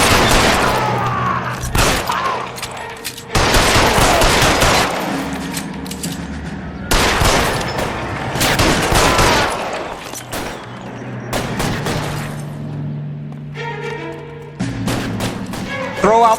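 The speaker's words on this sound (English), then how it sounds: "Oh, we shooting at them?" Repeated bursts of gunfire in the crime game L.A. Noire during a shootout at Nicholson Electroplating, with loud, rapid volleys and heavy shots breaking out in clusters, and voices talking between them.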